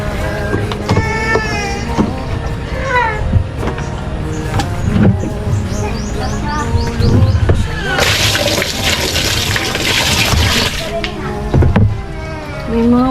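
Dirty water draining out at a rural hut, with a gushing, rushing flow that swells loudest midway, mixed with scattered clatter and voices nearby.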